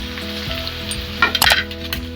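Potato pieces and freshly added carrots sizzle steadily in a hot pan while cooking pav bhaji, with a few louder crackles and spatula scrapes in the middle and no voices.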